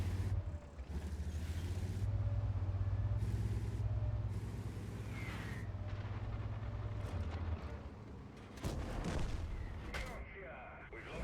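Artillery fire in a tank video game sounds as sharp distant booms over a steady engine rumble, with a person talking throughout.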